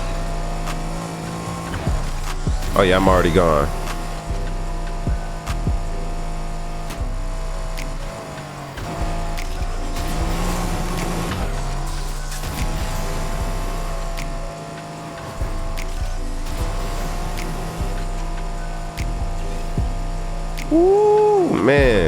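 A race car engine in Need For Speed Heat revs and drones steadily, rising in pitch through gear pulls, with a few sharp upward sweeps as it accelerates; someone talks briefly over it.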